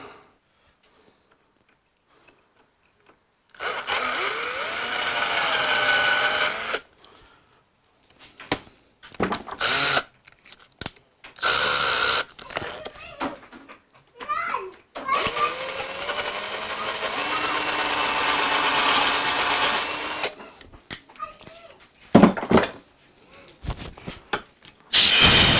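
A power drill runs in several long and short bursts while drilling out a broken screw in a Suzuki GS1000 motorcycle carburetor, its whine rising and falling with pauses between, close and loud.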